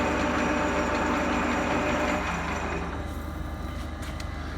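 A machining lathe bores out a hole in the crown wheel hub of a 1943 John Deere Model A with a V8 conversion, a loud steady grinding drone that eases slightly partway through.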